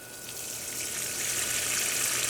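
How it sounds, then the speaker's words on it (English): Water sprays steadily from a hose or can onto container plants, including a tomato, in an outdoor vegetable garden, a continuous broadband hiss that grows slightly louder and stays unbroken, with no talking. "So I am going to water"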